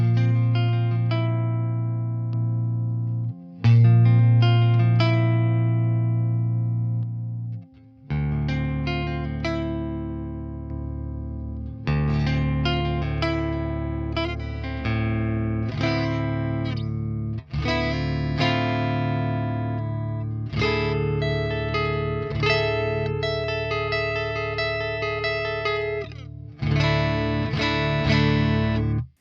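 An electric guitar plays a chordal riff through a Joyo Avalon compressor pedal in repeated phrases, bright and sustained with clean attacks and even, controlled loudness, no voices.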